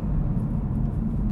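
A BMW 440i Gran Coupe engine under acceleration, a loud, steady low-pitched drone heard from inside the car, with no talking.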